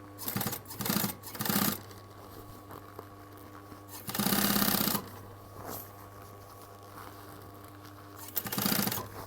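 A sewing machine stitches a seam on a leather jacket being altered smaller, running in short separate bursts with pauses between them and a steady low hum underneath.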